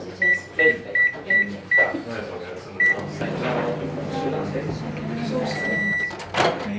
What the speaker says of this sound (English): microwave it for 50 seconds